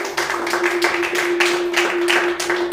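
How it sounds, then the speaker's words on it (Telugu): A church congregation claps together in a strong, fast, regular rhythm. The loud, close claps run over a sustained musical tone. "గట్టిగా ఒకసారి చప్పట్లు కొడదాం."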